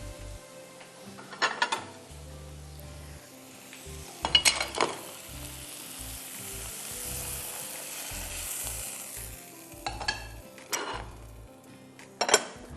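Fish fingers deep frying in oil in a saucepan: a continuous sizzle with occasional louder clatters and bursts, close and fairly loud.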